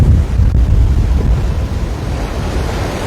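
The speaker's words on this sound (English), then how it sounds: "Man, that wind really just picked up." Strong wind roars during a rain storm in Waikiki, Hawaii, a steady loud low rumble of gusts buffeting the microphone with surf-like wash, without talk.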